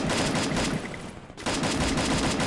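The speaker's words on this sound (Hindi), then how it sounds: "वो कार 98 मार रहा है।" Kar98 sniper rifle fire in the Free Fire battle royale game, a dense, loud burst of gunshots with a brief lull before firing resumes.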